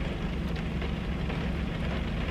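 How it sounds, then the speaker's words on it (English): Steady, dense rain hissing and pattering on a surface, constant and close with no pauses. "It's raining, by the way."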